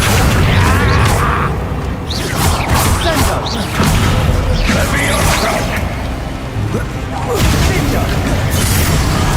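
Explosive Bombarda blasting spells in Hogwarts Legacy, several loud booms and whooshing bursts spaced across a busy fight, close and heavy, with a voice calling out spells throughout.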